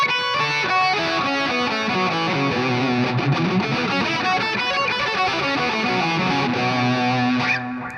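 An Epiphone Les Paul electric guitar runs through the second pentatonic shape with heavy distortion, fast dense notes shredding continuously at high volume, with no voices.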